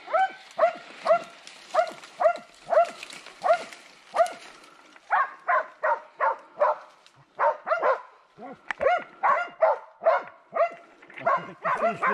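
Hunting dogs bay and bark at a cornered wild boar, repeated rapid bursts of barking in quick rhythmic volleys, loud and close, with a brief lull midway before the barking resumes.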